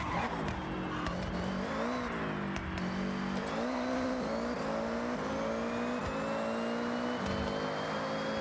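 Video game car engine droning and revving with rising and falling pitch sweeps, a steady mid-loud whine through shifts, like a race car accelerating, with no talk.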